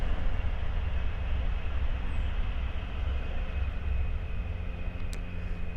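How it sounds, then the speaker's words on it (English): A steady low rumble and rattle of a train rolling past near the River Ouse, continuous throughout with a faint high squeal near the end. "I'll wait for the train to go past."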